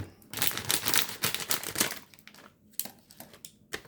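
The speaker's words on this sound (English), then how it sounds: "I got my trusty scissors." Close crinkling and rustling of a plastic snack bag, with a few sharp scissor snips and crackles as it's cut open.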